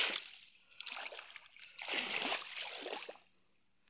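Water splashes and sloshes in a field flooded like a sea, in a few irregular bursts at close range, with a quieter stretch before a longer, louder splashing spell near the end.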